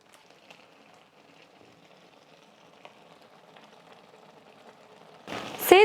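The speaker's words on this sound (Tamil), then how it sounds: "தண்ணி நல்லா கொதிச்சு வரட்டும்" Water comes to the boil in a pot for Maggi noodles, a faint, soft bubbling and hiss that builds slowly, ending in a brief louder clatter.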